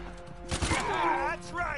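Gunfire in a video game, with a sharp burst of shots in the middle of the clip followed by a noisy swell. A voice is shouting over it.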